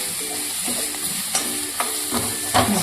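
Vegetables for green thepla sizzle steadily in a pan on a gas flame while a utensil scrapes and clacks against it several times.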